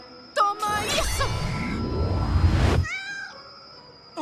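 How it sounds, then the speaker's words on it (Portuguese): A cartoon cat meows in a rising, drawn-out cry over a brief whooshing effect, clear and close, ending in a quieter trailing mew with no talking. "Um gatinho?"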